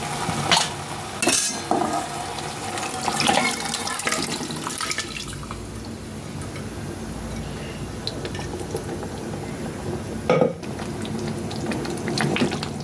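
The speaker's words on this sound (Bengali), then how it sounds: "এবার আমরা এর উপরে সেদ্ধ করে রাখা মটনটা ঢেলে দেবো" Boiled mutton poured over cooked-down onions in a pan for a mutton curry, giving a wet splash and pour with clattering pan sounds, followed by a steady moderate liquid rustle and a few sharp knocks near the end.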